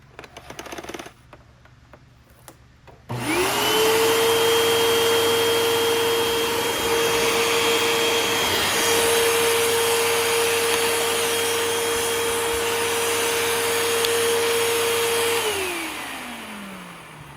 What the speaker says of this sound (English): So I've got another one of these Hoover Elite Rewind Plus vacuums.